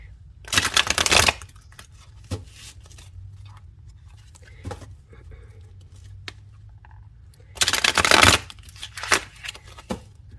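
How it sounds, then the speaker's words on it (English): Two bursts of card shuffling, each a rapid riffling flutter lasting about a second, separated by quiet handling and soft taps of the deck. "Let's give it a good shuffle."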